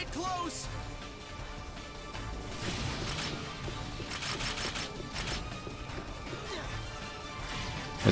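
A bomb explodes in the fighting game Guilty Gear 2 Overture, with a couple of heavy crashing bursts over continuous game music and effects.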